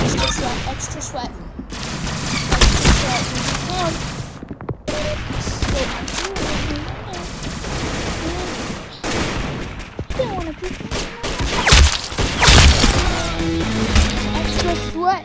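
Shotgun gunfire in a video game, loud repeated blasts and crashes among other game effects, with excited voices talking over much of it.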